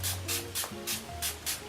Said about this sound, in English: let's grab some setting spray